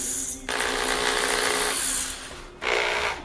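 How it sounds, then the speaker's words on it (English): A power drill grinds through a metal saw blade in two sustained bursts with a short pause between, a harsh high whine close by. "drilling through a saw blade."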